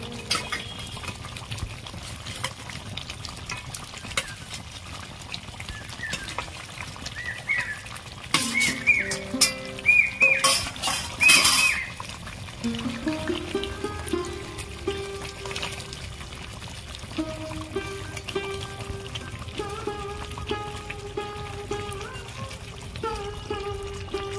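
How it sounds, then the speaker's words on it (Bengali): Koi fish curry with eggplant bubbling in a pot, a steady wet simmer running throughout, with a brief louder clatter midway and faint voices and tonal sounds in the background. "তরকারি ফুটছে"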